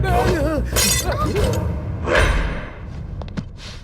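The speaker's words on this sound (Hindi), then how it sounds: "हमारी मिसेस का फोटो साहब वो गलती से मेरे हाथ से गिर गई" A framed photo of a wife slips from a man's hand and shatters on the floor, a sharp, loud crash of breaking glass followed by scattered tinkling fragments, with faint background sounds afterward.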